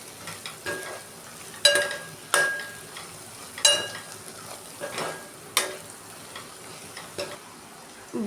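Turmeric, salt and chili powder being stirred into oil in a pan while cooking an ivy gourd masala, with a spoon scraping and clinking in irregular strokes over a soft sizzle, close and moderately loud, no talking.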